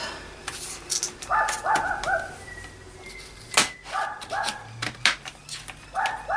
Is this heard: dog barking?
yes